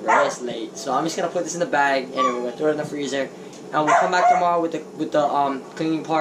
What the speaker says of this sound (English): Don't mind the fucking dog barking.